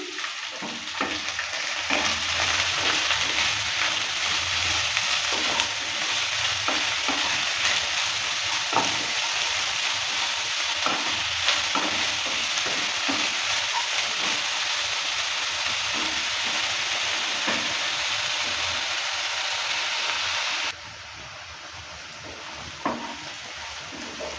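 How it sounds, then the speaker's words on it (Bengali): Chopped pointed gourd fries and is stirred in a pan, giving a dense, steady sizzle with soft scraping strokes throughout, close and loud, before easing slightly near the end; no one speaks. "পটলটাকে আমি কিছুক্ষণ সময় নিয়ে ভালো করে ভেজে নিলাম"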